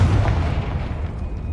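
A Confringo fire spell detonates in Hogwarts Legacy, a loud, close burst rumbling low and steady across its length with no voices.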